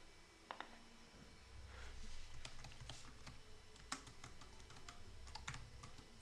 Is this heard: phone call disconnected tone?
no